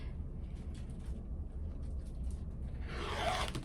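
A rotary cutter slices fabric strips for a quilted bag, making a quiet, close rasping swish that swells near the end over a low background hum.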